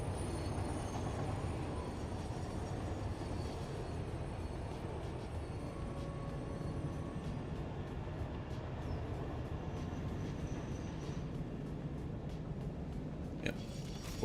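Quiet rumbling rail sound of a train passing in the video game Satisfactory, steady wheel and carriage noise with faint metallic ticks, fairly distant and without talking.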